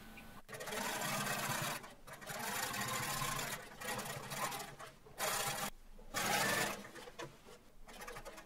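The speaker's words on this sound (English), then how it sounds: "Stitch just inside the seam allowance to hold everything in place" A sewing machine stitches a jeans seam in several runs of close, buzzing whir broken by short pauses, moderately loud with no talking.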